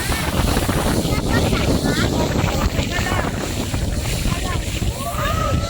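Rough water churns and slaps against a moving boat off Tai O fishing village, Hong Kong, a constant loud rush with wind buffeting the microphone throughout.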